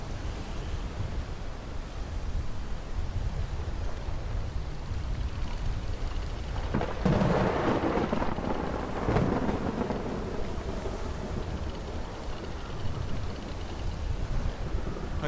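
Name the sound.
strong wind storm at sea in a video game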